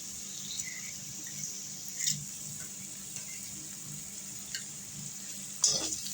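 Tomatoes cook in a pan for a burrito bowl, with the mashed beans about to go in, giving a soft, steady sizzle and a few light stirring clinks and scrapes, with a slightly louder scrape near the end.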